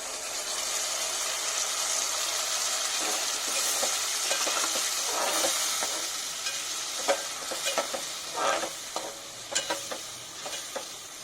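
Curd goes into sizzling fish biryani masala in a pot, giving a continuous hiss of frying with repeated scraping strokes of a spoon stirring the mixture, close and moderately loud.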